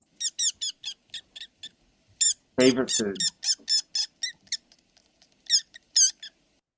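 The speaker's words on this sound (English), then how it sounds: "And then you will hear vole squeaks. So from, Microtus pennsylvanicus." Meadow voles (Microtus pennsylvanicus) give a run of sharp, high squeaks in short repeated bursts, clear and fairly near, with a short stretch of a person speaking in the middle.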